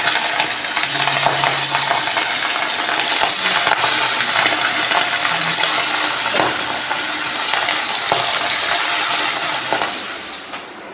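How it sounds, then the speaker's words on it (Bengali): Pabda fish sizzling in hot oil in a kadai, a dense, steady hiss and crackle that runs throughout at a fairly loud, even level, with no voices. "মাছগুলো খুব সাবধানে ভাজতে হবে"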